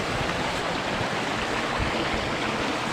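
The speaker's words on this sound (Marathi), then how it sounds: "मस्त आहे पाण्याचा प्रवाह ओढा आहे छोटासा" Continuous rushing and gurgling of a small stream flowing close by, a steady even wash with no voices.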